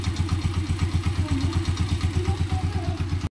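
A Honda TMX 125 motorcycle idles after a tune-up, its single-cylinder engine putting out a fast, even, close putter with a steady pulsing rhythm before cutting off abruptly at the end.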